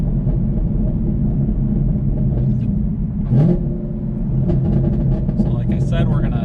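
A Camaro fitted with a ram air setup, its engine droning loud and steady with a deep rumble that swells as it revs from 2,000 toward 6,000 RPM, heard from inside the car with some talk over it.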